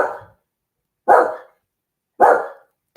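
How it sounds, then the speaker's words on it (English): A pet dog barks three times in quick succession, each bark loud and close, with short silent gaps between them and no talking. "That's my dog barking."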